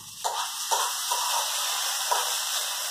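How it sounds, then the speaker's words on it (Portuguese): Tomato, onion, sausage and bacon sautéing in a pan with a constant bright sizzle, and several soft spoon strokes stirring the mixture at irregular intervals. "Olha o nosso refogadinho com tomate, cebola, bem pouca, viu?"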